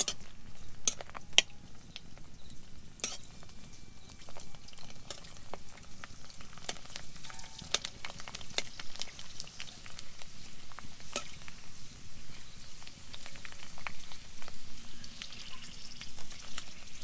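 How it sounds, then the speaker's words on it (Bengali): Fuchka frying in hot oil in a kadai at home, a soft, steady sizzle with scattered light pops and occasional faint clinks, quiet and close, with no talk. "এই ফুচকাগুলো ভাজা হয়ে গেলো"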